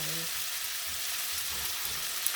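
Lemon juice squeezed into a pan of almond butter and garlic that sizzles steadily throughout, a dense, even frying hiss with a brief drip-like tone at the start.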